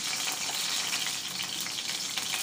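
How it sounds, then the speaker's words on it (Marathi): Curry leaves crackling in hot oil in a small kadhai for a dal tempering, a dense, even sizzle held steadily through the brief moment. "मी एका छोट्या कढईमध्ये तेल गरम करून घेतलेलं आहे, थोडं कढीपत्ता टाकलेला आहे"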